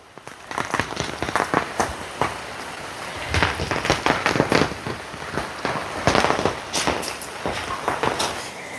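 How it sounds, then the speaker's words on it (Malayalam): Light drizzling rain outdoors, a dense patter of small irregular drops and taps tapping on surfaces nearby, steady and moderately loud throughout, with no talking. "മഴയാണെങ്കിൽ നിന്നിട്ടേ ഇല്ല, ഇങ്ങനെ തൂളി തൂളി നിൽക്കുക."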